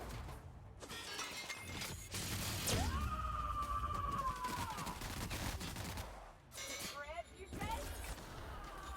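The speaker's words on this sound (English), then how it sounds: "she's mag dumping a minigun into them" A minigun fired nonstop in a PC video game, a dense rattling stream of shots with shattering impacts and a rising whine, loud and sustained, with a voice talking over parts of it.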